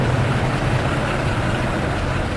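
A car engine idles steadily with a low, continuous rumble, close by and without any voices.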